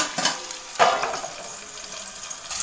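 Fish coated in rava and homemade fish masala fries in a covered pan over a medium flame, giving a steady soft sizzle with a few brighter crackling bursts near the start and end.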